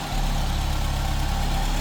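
A cold Volkswagen MK2 GTI engine idles high, around 1,100 to 1,200 RPM, after an intake boot repair, with a steady low rumble, continuous and fairly loud, with no other sounds.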